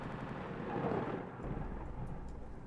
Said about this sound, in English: There was thunder going off as I hit the button to go inside.